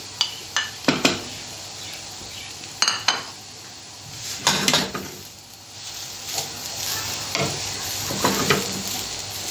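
Green pepper and hot chili sizzle steadily in a pan, punctuated by clanking utensil stirs and scrapes against the metal, close and fairly loud, with the frying hiss building toward the end.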